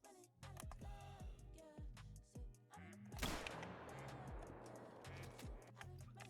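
A single sharp rifle shot rings out in the hunting game theHunter: Call of the Wild, a faint crack and brief tail amid a steady pattern of soft ticking clicks.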